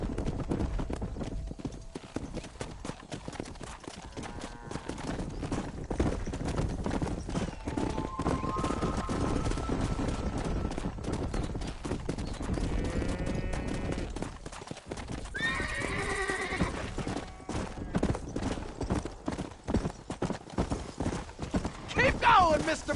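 In the Red Dead Redemption video game, a horse's hooves clip-clop steadily at a gallop and the horse whinnies a few times, all at moderate volume. A rider's voice and other speech come through over the hoofbeats.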